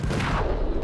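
Heavy shotgun blasts in the Max Payne shooter game, a dense, loud burst of booming gunfire filling the whole short moment with no pause between reports.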